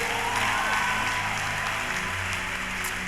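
Faint, distant clapping from a congregation during a sermon, a soft wash of applause with a low hum beneath it.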